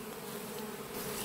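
Honeybees drone steadily around open beehives in a continuous, low buzzing swarm that swells slightly louder toward the end, with no voices.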